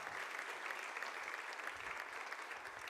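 Faint, steady applause from a church congregation, many hands clapping evenly in a distant, quiet wash with no voices standing out.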